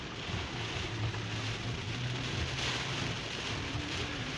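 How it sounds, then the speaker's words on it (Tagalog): Heavy rain pouring down in Tagaytay, a dense, steady hiss and roar that holds evenly throughout with no pauses and no voices. "grabe ang lakas ng ulan dito sa Tagaytay"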